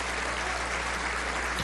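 Audience applause at a Venezuelan political address responding to the United States, a dense, steady wash of clapping held at an even level throughout, with no voices over it.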